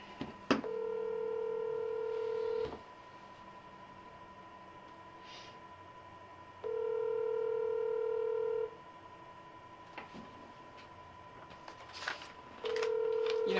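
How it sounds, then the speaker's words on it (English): A landline telephone rings repeatedly in a talk-show studio, with steady two-second electronic ring tones separated by pauses and occasional soft knocks in between. "I got to figure out how to make the phone not ring"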